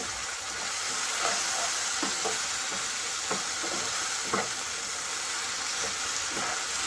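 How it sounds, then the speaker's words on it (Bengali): Mustard paste fries with softened tomato for shorshe tangra fish curry, a steady loud sizzle broken by several soft spatula scrapes and stirring knocks against the pan, with nobody speaking. "এবার সর্ষে বাটাটা দিয়ে দেবো। দিয়ে ভালো করে মিশিয়ে নেব।"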